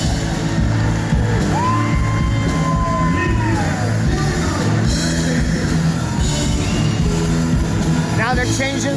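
A concert crowd cheers, yells and whoops at a live show with a touring 1960s-style band, loud and continuous throughout, with voices shouting over a dense roar of applause and music.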